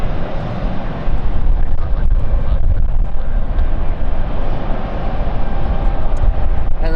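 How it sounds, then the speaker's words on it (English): A passenger jet taxiing at London City Airport, its engines giving a loud, steady rumbling roar with wind buffeting, heard up close and continuous without speech. "the Frankfurt flight is on the move as well."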